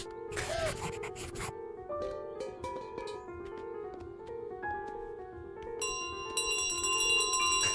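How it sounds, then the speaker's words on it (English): Bells ringing in Untitled Goose Game, sustained tonal chimes and ringing overtones layered over soft background music, with a few brighter metallic strikes near the end. "The game did start next to a pit of bells"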